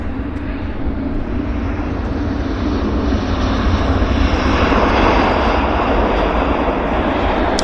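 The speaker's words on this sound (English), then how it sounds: "We had an Airbus landing there." An Airbus airliner lands at Vancouver airport, its loud, broad engine roar building steadily and peaking near the end with no talk over it.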